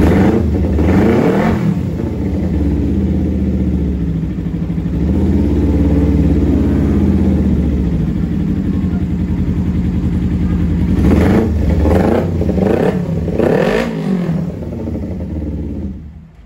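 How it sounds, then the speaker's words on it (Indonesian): A Kawasaki Ninja 250 FI motorcycle engine runs at a raised high idle just after a cold start, loud and close, with steady droning and a few rising throttle swells later on. "Ini kalau awal hidup emang dia gasnya naik dulu RPM-nya karena ada throttle gas kedua itu"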